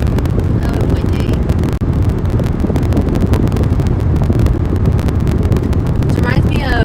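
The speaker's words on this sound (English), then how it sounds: "Oh, windy." Strong Kansas wind during storm chasing buffets the microphone in a steady, loud roar, with a rushing, gusty rumble and faint vehicle noise underneath.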